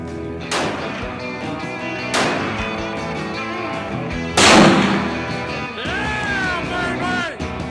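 Several loud rifle shots ring out one at a time at roughly two-second gaps, each a sharp boom with a long echoing tail, over a musical background.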